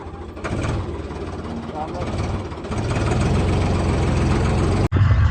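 A Mahindra tractor with a stuck gear idles with a steady low rumble that grows slightly louder, then cuts out briefly near the end.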